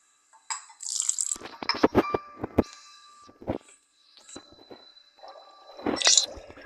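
Water poured in during a chemistry step in The Past Within puzzle game, heard as a few short wet squishing splashes and drips with gaps of quiet, fairly close and clear, no talking.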